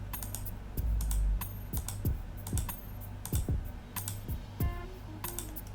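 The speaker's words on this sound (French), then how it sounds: "appuyez sur la touche CTRL de votre clavier et en maintenant celle-ci appuyée, sélectionnez toutes les autres références" Computer keyboard keys pressed while selecting references in Zotero, with the Ctrl key held: crisp, close clicks and taps in an irregular run, some in quick pairs, over quiet background.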